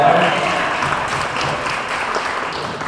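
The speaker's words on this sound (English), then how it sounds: "How about a round of applause for Bowen?" An audience gathered at a mobile home estate show applauds for a performer, steady clapping that stays fairly loud and fades slightly toward the end.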